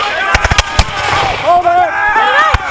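Sharp musket volleys from a Battle of Monmouth reenactment skirmish, several close loud cracks in a ragged cluster followed by a lone later shot, with shouted commands and voices over the outdoor field.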